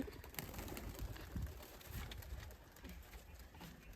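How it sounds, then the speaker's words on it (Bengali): A female pigeon coos softly in a loft, low murmuring calls at a distance, faint against a quiet background with light rustling and no talk. "এটা একটা মাদি কবুতর"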